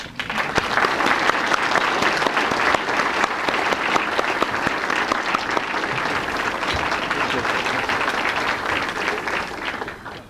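An audience at a space development conference awards banquet breaks into sustained, dense applause for Dr. Harrison Schmitt, steady and loud for about ten seconds before tapering off at the end.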